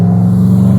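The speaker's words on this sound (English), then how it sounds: "I have no idea why people think having loud engines like that is a good idea" A car with a loud engine roars nearby, a heavy, steady low rumble that is very loud and fills the whole moment.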